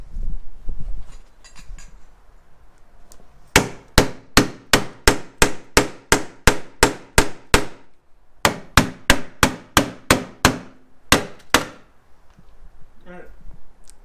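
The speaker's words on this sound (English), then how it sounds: "Oh, hammer time." Sharp metallic hammer blows ring out on a car grille in a fast steady run of about a dozen strikes, a short pause, then another burst of hits, loud and close.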